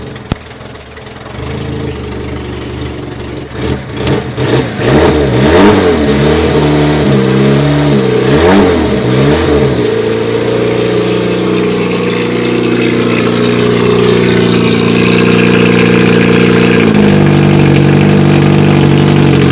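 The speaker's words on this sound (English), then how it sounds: "Hear my sports exhaust there." An old engine with a big-bore sports exhaust rumbles loudly and throatily, revving up and down in surging waves before settling into a steady, deep idle.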